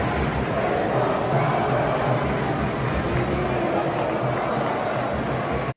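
Football fans at the England vs USA 2022 World Cup match chant in a massed, continuous crowd roar that stays loud and even throughout. Individual claps cannot be picked out in the wash of voices.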